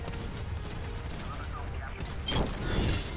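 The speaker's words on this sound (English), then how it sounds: "I think it hit the cupola of the tank and then kind of like exploded inside it" A tank shell in a war video game strikes a turret cupola and explodes, a loud burst of impact and crackling debris arriving near the end over steady engine rumble and mechanical clatter.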